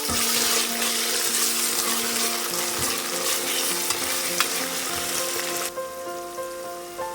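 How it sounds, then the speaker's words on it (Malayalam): Ginger garlic paste sautés in oil for a pressure cooker mutton curry, hissing loudly and continuously up close as a spoon stirs through it, then the sizzle drops off abruptly near the end. "അതൊന്ന് നമുക്കൊന്ന് ജസ്റ്റ് ഒന്ന് എണ്ണയിലിട്ടൊന്ന് വഴറ്റിയെടുക്കാം"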